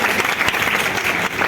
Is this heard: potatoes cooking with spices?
no